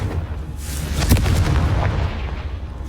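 The Confringo spell from the game Hogwarts Legacy bursts as a loud, close boom with a crackling fiery blast that rumbles and fades over a couple of seconds, with no talking.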